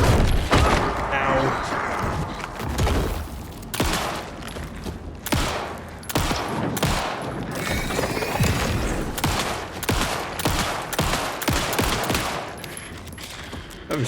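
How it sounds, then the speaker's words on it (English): Shotgun blasts and heavy gunfire from the survival horror video game Alan Wake 2, arriving as loud repeated sharp bursts throughout with dense combat noise and a voice speaking between shots. "That was a shotgun."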